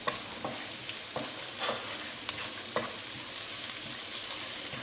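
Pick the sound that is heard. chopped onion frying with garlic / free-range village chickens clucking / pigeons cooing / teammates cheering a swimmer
chopped onion frying with garlic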